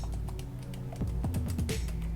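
Keys clicking on a Logitech Folio Touch keyboard case for iPad, a short run of soft, close taps over a low steady hum.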